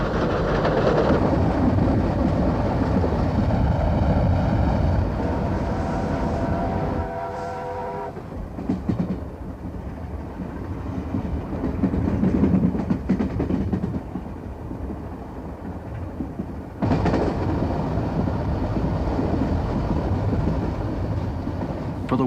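Steam locomotive 3801, the Newcastle Flyer, runs through open countryside in 1988, a loud, steady roar of wheels and exhaust with rail clatter, the sound dropping briefly partway before surging back.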